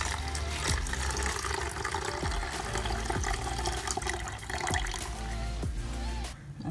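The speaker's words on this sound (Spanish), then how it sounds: "Vamos a medir 8 onzas de agua hirviendo." Eight ounces of boiling water poured to melt soap while making liquid antibacterial soap: a steady, splashing pour that runs continuously without a break.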